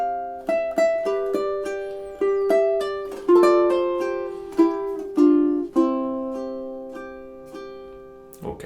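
A ukulele plays two measures of a song, with clear strummed and plucked chords ringing and decaying in a steady rhythm, heard alone and close up.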